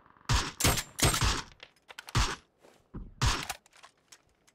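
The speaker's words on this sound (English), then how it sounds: "I think another team of players is shooting at them as well" Gunfire from enemy players in the battle-royale game PUBG, several loud bursts of shots in uneven clusters with short gaps, fairly close and heard alone without talk.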